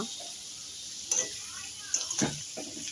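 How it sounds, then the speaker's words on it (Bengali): Potatoes frying in a pan for chicken kosha, a steady high sizzle running throughout, broken by a few brief utensil clinks and stirring knocks near the middle and end. "আমি আলুগুলো আগে ভেজে নিচ্ছি ভালো করে"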